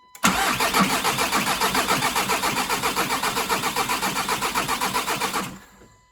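Audi car engine cranking over in a workshop after the injectors were plugged back in, a loud rhythmic starter churn lasting about five seconds that cuts off sharply into quiet, with no talk.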